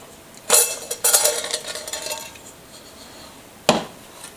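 A lid comes off a food-grade steel coffee container with a sharp metallic clank, followed by scraping and rattling, then a final clink. The metal sounds are close and isolated, with no talk.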